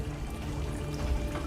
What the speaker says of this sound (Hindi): पानी तेजी से बढ़ रहा है